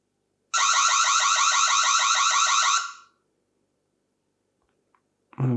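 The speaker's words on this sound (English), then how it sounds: "and sounds an alarm." A Reolink Argus 3 Pro battery security camera sounds its alarm siren, a loud pulsing electronic wail lasting about two seconds, then stops abruptly, followed by a brief click and the start of another loud burst.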